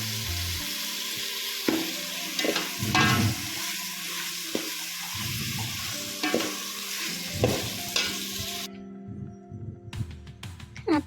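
Mixed vegetables are stirred into village-style pulao frying in a pan: a loud, continuous sizzle with repeated scraping stir strokes, fading to quieter clinks at the end.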